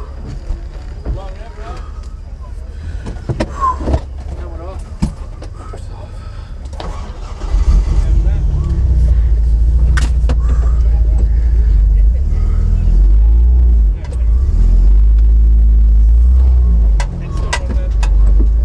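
An off-road vehicle at a winch challenge starts up and drives, a loud, close, rumbling engine that holds steady after several seconds of talk and clatter, with voices over it.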